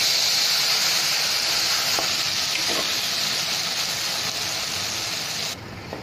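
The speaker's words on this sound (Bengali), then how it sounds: "এবে আমি এতে কটা টমাটো পকাইব।" Tomatoes frying in a pan with ginger-garlic paste while cooking dhania rice give a steady, close sizzle and hiss, with a few faint stirring clinks. The sizzle drops slightly near the end.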